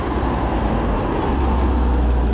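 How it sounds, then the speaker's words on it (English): A Porsche sports car drives past at a roadside, a steady, loud engine-and-tyre roar that swells slightly toward the end, with no voices. "Oh, it's a Porsche."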